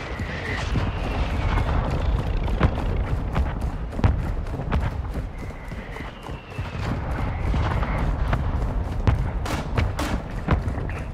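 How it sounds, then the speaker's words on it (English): Mortar strike explosions in Call of Duty Modern Warfare II DMZ mode, a long barrage of repeated booms and sharp cracks over a constant battlefield rumble, with occasional faint radio-style tones. "Mortar strike inbound now."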